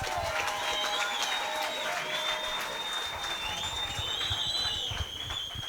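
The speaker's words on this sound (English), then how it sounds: "Let's give both of these warriors a big round of applause." Crowd at a boxing event applauding and cheering after an eight-round main event bout, a dense, steady wash of clapping and voices with whistles, moderately loud throughout.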